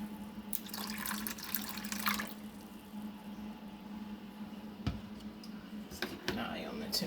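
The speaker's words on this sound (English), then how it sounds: "Adding more water." Water runs faintly from a tap into a container while measuring out water for low-carb dough, a quiet steady trickle with a few small clinks and drips and a person talking.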